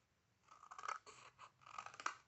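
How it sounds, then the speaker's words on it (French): Scissors snip through paper for a small craft box, several quick crisp cuts in two short bursts, close and fairly quiet, with no voice. "on va découper certains boudins qui vont nous gêner pour coller"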